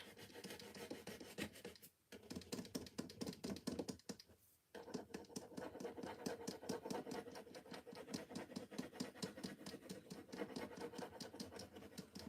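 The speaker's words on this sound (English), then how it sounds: "let's get our burnishing tool. Get these pressed down." A burnishing tool rubs rub-on transfers down onto a surface in quick, continuous scratchy strokes, close and fairly quiet, with two brief pauses early on.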